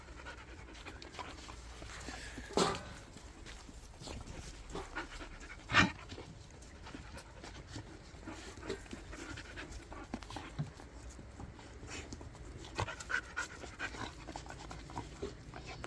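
Jindo dogs pant steadily while playing together, a quiet continuous breathing texture with a few sharper bumps and yelps rising above it, no talk.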